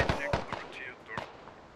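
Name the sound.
gunshots in a video game (Squad Ops)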